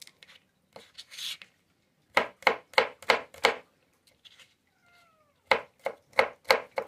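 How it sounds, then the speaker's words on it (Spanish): A small cat meows faintly in a home kitchen during the making of beef broth, between bursts of sharp, rhythmic knife chopping on a board. "Aquí les manda saludos el gatito."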